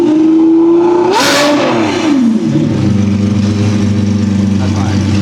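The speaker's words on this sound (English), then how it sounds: "now that you guys have heard what this Revuelto sounds like" Lamborghini Revuelto fitted with a new aftermarket exhaust, one loud nearby rev that climbs and falls away to a deep rumbling idle, with voices briefly over it.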